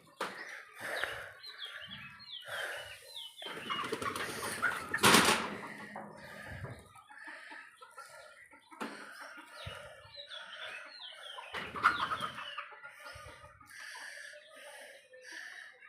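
Chickens clucking and calling close by, with intermittent bursts of busier bird noise and a brief louder flurry, continuing steadily without talk.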